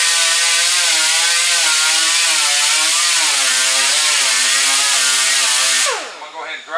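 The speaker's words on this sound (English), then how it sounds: "Then I take my grinder." An angle grinder runs loud and steady, grinding down a hammered-out dent in damaged car body panel during collision repair, its whine wavering in pitch before winding down near the end.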